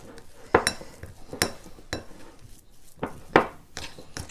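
A small spoon clinks and scrapes against a bowl while stirring a freezer chocolate mixture, with several distinct sharp taps at irregular intervals, close up and without speech.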